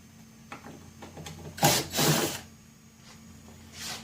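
Screws are removed from a Peavey PR15 speaker cabinet with a short mechanical whirring burst and a second grinding spin, followed by faint clicks and handling taps in a quiet room.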